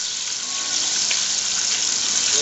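Steady, close frying sizzle of cooking fat rendering in a pot as water burns off, with a hissing, crackling texture, gradually building slightly louder, with no voices.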